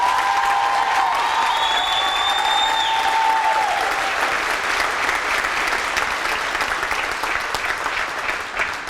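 A graduation ceremony crowd gives a big round of applause, sustained and loud for the whole stretch, with a few high whistles or cheers early on.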